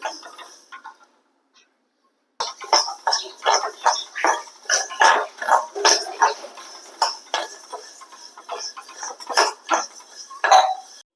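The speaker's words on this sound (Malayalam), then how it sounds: "അപ്പൊ നമ്മുടെ മുതരയൊക്കെ പൊട്ടി തുടങ്ങി" Horse gram dry roasting in a pan with salt, crackling and popping in a dense run of sharp clicks and small bursts, starting after a brief pause and continuing steadily, with faint clucking of chickens in the background.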